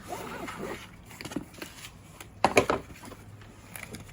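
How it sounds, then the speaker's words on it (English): A gold zipper on the case for Sony WH-1000XM5 headphones is pulled open, giving a few soft handling rustles followed by a loud, quick rasping zip run close by. "Okay, we got this gold zipper right here."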